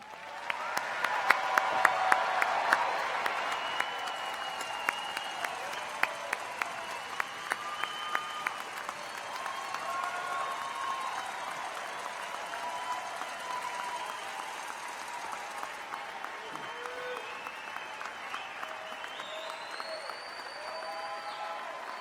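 Sustained audience applause at a university commencement ceremony honoring the graduating class, a dense crowd clapping loudly at first, then settling into a long, steady wash with occasional cheers and whistles.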